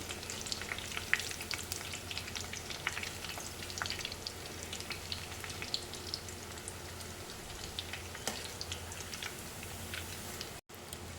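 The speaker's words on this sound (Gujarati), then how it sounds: "તો આપણી ચકરી સરસ તળાઈ જવા આવી છે. ગોલ્ડન બ્રાઉન થાય ત્યાં સુધી તળવાની." Chakri fries in hot oil with a continuous bubbling crackle, even and fairly quiet, and stays steady without voices for about eleven seconds.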